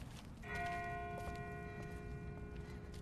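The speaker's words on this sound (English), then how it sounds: "That's not the same bell as before. This one's further off." A distant bell in the video game The Walking Dead rings out with a clear, sustained tone, faint and far off, with soft ambient noise and a few light taps but no talk.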